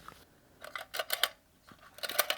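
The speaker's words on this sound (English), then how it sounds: "Okay, so that's the shutter." Close, crisp mechanical clicks and a short ratcheting wind from a vintage Kodak Duaflex camera shutter, in two brief clusters separated by a quiet pause.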